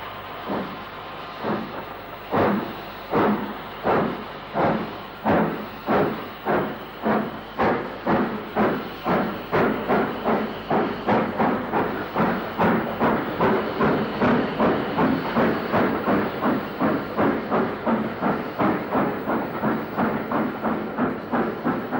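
LMS locomotive 45348 of Llandudno works hard hauling a holiday train bound for Leeds through Edgeley, Stockport, giving a loud, steady, rhythmic steam exhaust beat that holds close and strong throughout.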